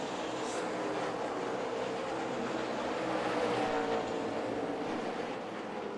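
NASCAR Xfinity race cars roar around a racetrack during the Toyota Care 250, a broad continuous engine rumble at moderate distance with a slight swell midway.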